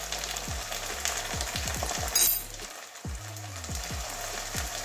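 Ginger garlic paste frying with onion in hot oil, a steady dense sizzle with occasional stirring scrapes and a brief louder burst partway through.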